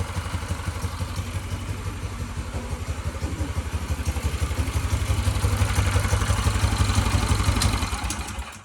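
A key-started motorcycle engine, its fuel gone stale, idles in a fast, even chugging pulse close by, building slightly louder before easing off at the very end.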